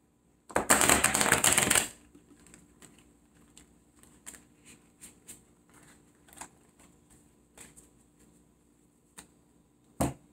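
A deck of tarot cards is shuffled in one loud, rapid riffle lasting about a second and a half, followed by soft, scattered taps and clicks of cards being handled nearby.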